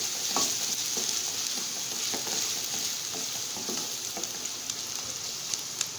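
Beef tikka frying in hot oil over a high flame, a steady loud sizzle with occasional pops and crackles, continuous and close with no talking.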